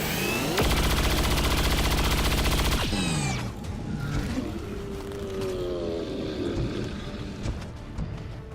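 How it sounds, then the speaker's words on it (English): A shredder cannon in XCOM 2 fires a loud, rapid burst of gunfire lasting a few seconds, then cuts off into rumbling impacts, debris and scattered crackling with a falling whine. "That's that shredder cannon, and it fires in a cone."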